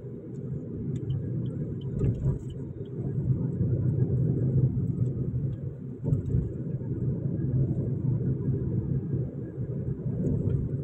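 Slow ride on an outer ring road, a continuous low engine and road rumble with wind, steady and close, no talking.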